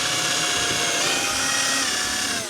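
A power drill drives screws into a garden storage unit at an allotment, one loud continuous whirring run held close for the whole stretch and easing off at the very end, with no talk.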